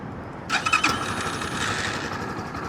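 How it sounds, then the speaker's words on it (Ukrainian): A Shineray Nitrox 300 motorcycle is started by remote keyless start. A sudden squeal and crank sound gives way to a steady idle that hums on to the end, close and fairly loud. "ми можемо завести його з пульта, натиснувши два рази на кнопку"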